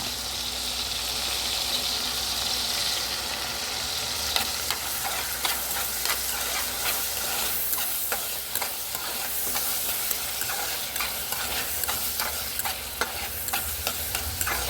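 Ajwain leaves frying in oil for a chutney, giving a steady, close sizzle and crackle with faint stirring scrapes that carry on without a break.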